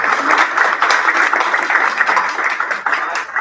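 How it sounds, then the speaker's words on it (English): Applause for the moderator at a senior center candidates forum, a full room of steady clapping close and loud from the start, tapering slightly near the end, with no voices over it. "Let's give him a round of applause, our moderator."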